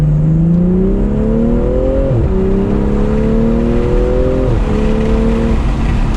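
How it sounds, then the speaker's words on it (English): A 2020 BMW M340i accelerates hard with the windows down, revs climbing steadily through two quick gear shifts, loud and close from inside the cabin. "I'm gonna roll down the windows here and just kind of step on it a little bit."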